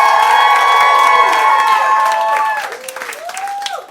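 A live theater audience cheers, whoops and applauds loudly at a podcast taping, a dense crowd roar with high shouts that fades slightly toward the end.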